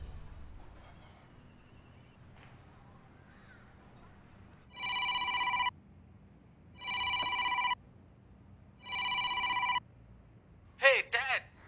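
A telephone rings three times, each a loud buzzing electronic ring about a second long with even pauses between, in a quiet room, and a short higher warble follows at the end.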